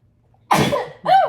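A single close, sharp sneeze bursts out suddenly, followed by a short, higher-pitched exhale or squeak right after, with quiet beforehand.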